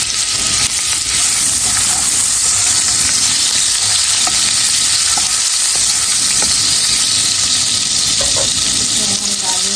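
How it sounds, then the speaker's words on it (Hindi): Ginger frying in oil in a frying pan, a steady loud sizzle with crackling pops and stirring scrapes throughout, no voices over it. "ऑयल में मैं पहले ये अदरक डालूंगी"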